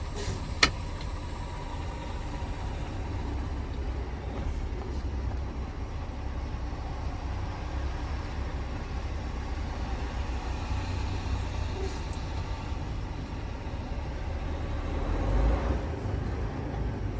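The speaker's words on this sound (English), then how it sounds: "I'm gonna drive 5 miles an hour. I'm gonna apply my service brake" Peterbilt truck rolling slowly at about 5 mph and braking, a steady low engine and road rumble throughout with a faint brief click near the start and a slight swell toward the end.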